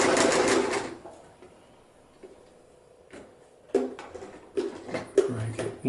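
A sewing machine stitches sleeping bag fabric in a short burst at the start, then falls quiet, followed by a few clunks and rustles as the fabric is handled and the wheel is worked.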